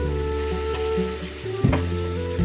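Beef gulai cooking in a pot on a home stove, a steady sizzle and bubbling simmer running continuously with a brief clatter partway through.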